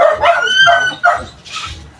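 Dogs bark and yip nearby in a few sharp bursts over about two seconds, with a whiny tone between the barks.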